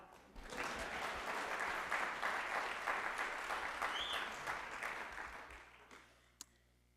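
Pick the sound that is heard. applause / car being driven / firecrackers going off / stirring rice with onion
applause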